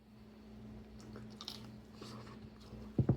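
Someone bites into a freshly baked pecan pie bar, with quiet chewing and soft mouth sounds and then two distinct crunchy bites near the end, close and faint.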